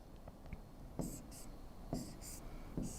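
A marker or chalk scratches across a classroom board while a chemistry teacher draws a six-membered ring structure, a few short, quiet, evenly spaced strokes sounding close against a soft voice in the background.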